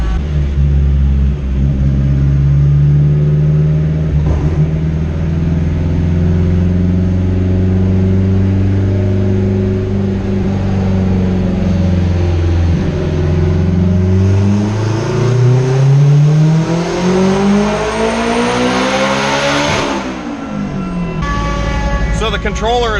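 Turbocharged Acura RSX engine on a dynamometer, held at a loud, steady high drone that climbs in pitch as it revs up, then drops off sharply near the end, with voices faintly under the engine.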